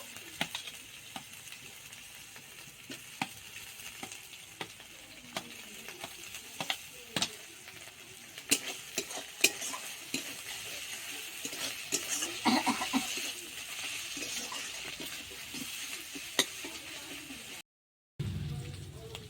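Onion and garlic, then ginger and green chili, fry in a pan with a steady low crackle and occasional louder spits and stirring clicks, moderately close and alone.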